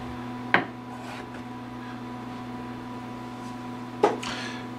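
A knife trims the ends off a washed carrot, making two sharp, brief cuts about three and a half seconds apart over a steady background hum.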